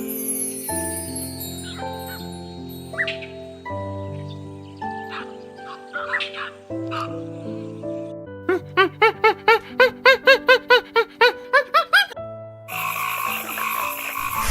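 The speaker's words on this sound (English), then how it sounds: "Frog," A frog croaks in a quick rhythmic series of about a dozen loud, evenly spaced pulses, preceded and followed by cheerful background music.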